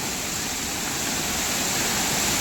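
Pure forest spring water pouring steadily from a pipe laid through the jungle to supply a village, a constant close broadband rush with no pauses and no voices.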